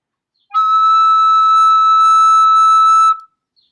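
A single sustained high whistle-like note on a recorder-type instrument, played with a partially open thumb hole, holds steady and loud for about two and a half seconds before stopping cleanly.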